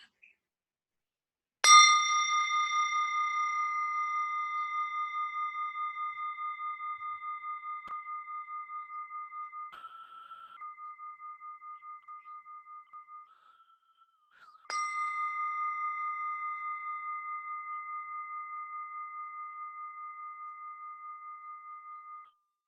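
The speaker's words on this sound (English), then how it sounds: "focus your mind to this bell sound and follow the sound and let your body to settle down" A meditation bell is struck twice, each strike a clear bright chime whose pure, sustained tone slowly fades in otherwise quiet surroundings.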